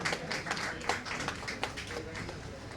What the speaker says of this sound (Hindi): Shraddha के लिए जोर से ताली please everybody